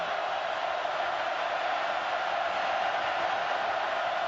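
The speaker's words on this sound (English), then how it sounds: "Crowd roaring." A dense stadium crowd roars steadily at a 2009 Virginia Tech versus Nebraska college football game, a loud broadband wall of cheering that holds constant throughout with no break.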